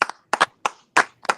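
Hand claps in a morning talk-show studio, heard as five short, close bursts of one or two claps each with brief silent gaps between them.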